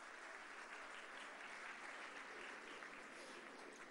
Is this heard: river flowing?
no